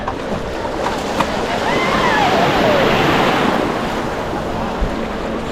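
Sea waves washing onto a crowded beach at Malvan, a loud continuous surf roar with wind buffeting the microphone and faint voices in the background.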